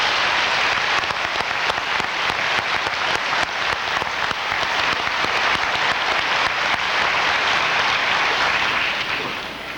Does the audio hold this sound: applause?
yes